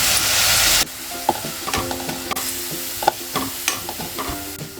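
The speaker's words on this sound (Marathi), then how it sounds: "आले लसूण पेस्ट चांगलं परतून घ्यायचं आता कच्चेपणा जाईपर्यंत परतून घ्यायचं एक कापलेला कांदा घालायचा आहे" Ginger garlic paste and sliced onion frying in a pan for a prawn cashew masala: a loud burst of sizzle at first, then repeated close spatula scrapes and clicks over a steady frying hiss.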